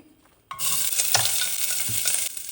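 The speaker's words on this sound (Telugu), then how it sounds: "ఇప్పుడు ఫస్ట్ ఉల్లిపాయలు వేసుకుందామండి." Onions tipped into a hot pan for a homegrown okra curry burst into a sudden loud sizzle after a quiet moment, then keep frying steadily close by with a couple of soft stirring knocks; nobody talks.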